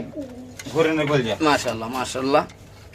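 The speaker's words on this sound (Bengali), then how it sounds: "এটা কি কবুতর ভাই এটা হইছে এটা হইছে রেড নেক রেড নেক" Red neck pigeons cooing at a pigeon market, a run of deep rolling coos close by, rising and falling over about two seconds.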